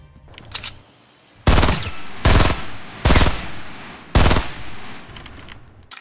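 Gunfire in the battle royale game Fortnite, four loud, sharp shots at uneven intervals, each with a short decaying tail, over quieter background game noise.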